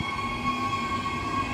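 Diesel train rumbling steadily through a station, a continuous close mechanical drone with a faint tonal whine on top, no voices.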